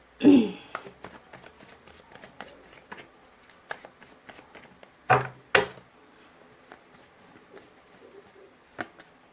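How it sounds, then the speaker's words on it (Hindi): Two oracle cards being shuffled and drawn by hand, a soft papery riffle with light taps and flicks, a few sharper slaps near the start and around the middle, close and fairly quiet. "मैं दो ऑरिकल कार्ड्स निकालूंगी"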